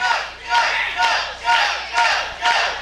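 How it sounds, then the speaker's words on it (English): At a CWF Mid-Atlantic wrestling event, a large crowd cheers and chants in loud rhythmic surges, roughly twice per second, filling the whole space. "You can hear the crowd. They are completely behind Joe Black."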